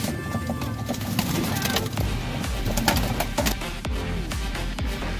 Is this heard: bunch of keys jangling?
no